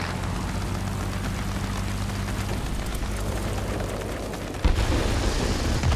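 A bomb blast in the World of Warplanes flight combat game, a dense, continuous roaring rumble across the whole clip with a sudden jump in loudness near the end, loud and close, with no voices.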